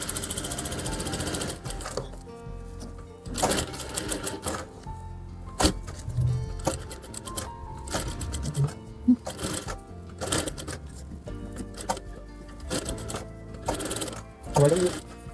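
A sewing machine stitches lace onto the neckline of a lined suit in repeated short bursts of rapid mechanical whirring, with brief pauses between runs, close and clear.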